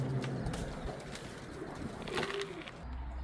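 Racing pigeons coo softly at a loft, low repeated throaty calls at close range over quiet background rustle, with no talking.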